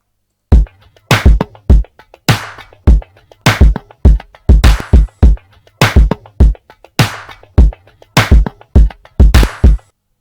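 Hip hop drum loop with a deep kick, sharp claps, scattered percussion hits and hi-hat. It plays loud and alone in a steady groove of crisp, punchy transients.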